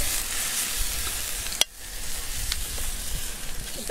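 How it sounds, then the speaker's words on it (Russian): Beef steak seasoned with black pepper sizzles on the grate of a Weber charcoal kettle barbecue grill: a steady close frying hiss throughout, broken once by a sharp clack, with no voices. "И сейчас выкладываем кусок мяса прямо на решетку."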